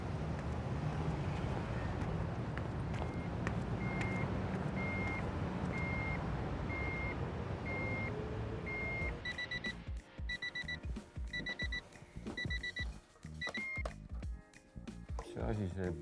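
Electronic device beeping in steady repeated pulses, first a single tone then a higher double tone, under ongoing background rumble and clattering with people talking.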